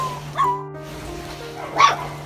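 Puppies at an old abandoned house give two short, high yipping barks close by, over a faint steady hum.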